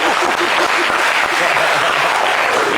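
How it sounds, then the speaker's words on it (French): Loud, dense audience applause at a live event, a continuous roar of clapping with crowd noise and voices mixed in, steady from start to finish. "On applaudit lourd."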